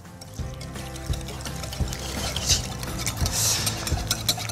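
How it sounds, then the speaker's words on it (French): A hand whisk beats egg yolks, sugar, milk and oil in a bowl, giving a steady run of rhythmic clicking strokes against the side, fairly close and clear with no talking over it. "C'est parti, on va fouetter tout ça. Et pour ça, un fouet."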